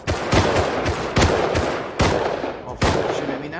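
Gunfire in the video game Rust comes as several sharp, loud shots and short bursts at irregular intervals, each with a booming low tail and reverberant decay.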